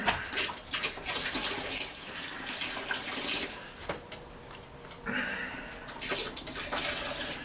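Boiled water is dumped out of a pot in uneven splashing pours, close and bright, with short gaps between the gushes.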